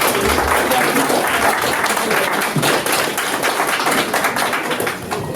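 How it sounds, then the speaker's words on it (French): Loud, dense applause from an audience fills the room without a break, with some voices mixed in, easing off slightly at the end. "On peut l'applaudir bien fort s'il vous plaît."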